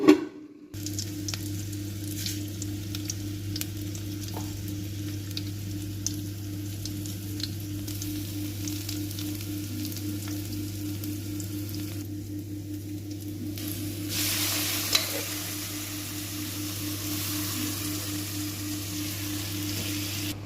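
Green chilli, curry leaves, ginger and coriander with a little salt cooking in a pan, a steady soft sizzle with occasional stirring under a constant low hum, no talk.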